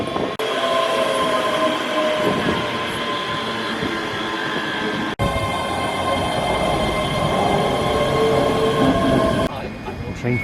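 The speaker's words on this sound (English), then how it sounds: "Another train for Edinburgh." A passenger train for Edinburgh roars through Croy station at close range, loud continuous rumbling with metallic wheel squeal and rattling carriages, easing off briefly near the end.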